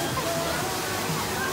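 A pool waterfall at the Polynesian Village Resort pours and splashes in a steady, close, hissing rush while someone talks over it.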